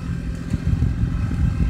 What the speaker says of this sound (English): Loading the tractor, fixing to go back home.